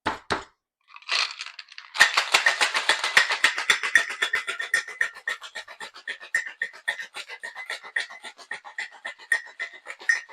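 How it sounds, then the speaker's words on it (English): Ice rattles inside a cocktail shaker during a banana cream pie martini, starting with a few loose knocks and settling into fast, rhythmic, crisp shaking close by that continues for several seconds with no voices. "we are going to shake until it is ice cold in our hands, typically about 15 to 20 seconds"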